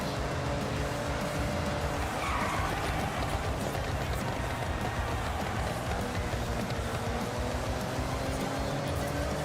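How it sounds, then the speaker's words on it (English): Car engines with turbos whining in the Forza Horizon 6 racing game, set in Japan and running anti-lag, give a steady, dense engine and road roar with faint high whine threads, continuous and fairly loud throughout. "I can hear the turbos whining."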